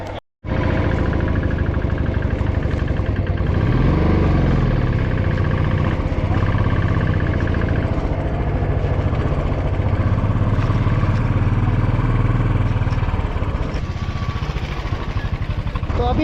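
Motorcycle engine droning steadily while riding the mountain road from Leh toward Nubra Valley past Khardung La; a loud, continuous mid-pitched hum with shifting tones holds close for about sixteen seconds after a brief silent start.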